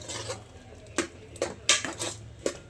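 A spoon knocks and scrapes against a pot while broad bean (avarekai) sambar ingredients are mixed without water, with a few sharp clinks at irregular intervals over a low background hum.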